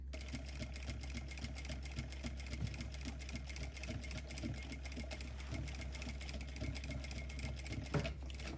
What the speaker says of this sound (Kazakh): бірнеше рет тігіп жібереміз.